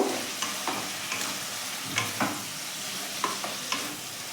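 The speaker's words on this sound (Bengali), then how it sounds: "ডিমগুলো দিয়ে এর সাথে একটু মিশিয়ে নেব" Boiled eggs being stirred into cooked masala in a pan for Kerala egg roast, with steady scraping strokes at an irregular rhythm over a faint continuous sizzle, close and moderately quiet, no voices.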